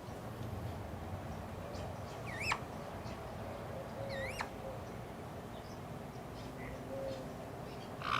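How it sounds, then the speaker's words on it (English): Wild birds call outside, with a few faint, rising whistled chirps standing out over steady background noise. "You're listening to the birds."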